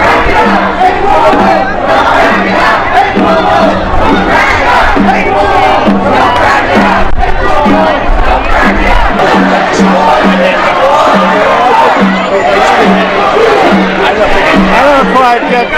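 A large protest crowd shouts and chants continuously at close range, a dense roar of many voices with overlapping yells and speech throughout.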